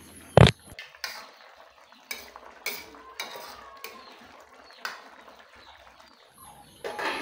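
A spoon stirs chicken adobo with lemongrass in a metal pot, giving a few sharp clinks and scrapes against the metal, one loud knock early, then irregular softer scraping taps spaced about a second apart.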